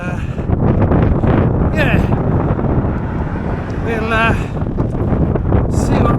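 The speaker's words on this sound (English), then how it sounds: "A lot windier than I thought it was going to be" Heavy wind buffeting a microphone while cycling, a constant loud roaring rumble that swamps the whole clip, with brief faint tonal chirps breaking through.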